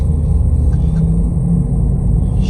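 A Nissan Versa Note with a bad wheel bearing drives along, its cabin filled with a loud steady low rumble and hum of road and engine noise.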